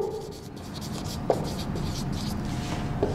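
Marker or chalk writing words on a classroom board during an English lesson, a steady soft scratching stroke that runs throughout, with a couple of brief taps.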